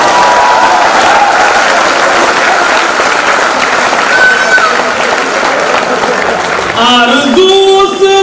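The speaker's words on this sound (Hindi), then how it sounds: "एक बार ताली बजाकर मुझे बताएं" Audience applause at a Hindi-Urdu poetry recital, dense sustained clapping filling the whole stretch at a steady loud level, with a brief tonal sound rising near the end.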